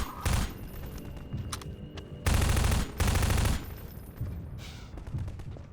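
Enemy gunfire in Half-Life 2 comes as loud bursts of rapid automatic fire, with several short volleys and longer sustained rattles separated by brief pauses.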